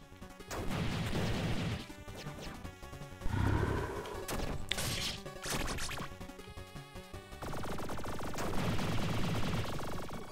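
Rapid gunfire and heavy crashing blasts from grenade explosions in the action video game Shinobi Non Grata, loud and continuous with game music or effects running beneath, no talking.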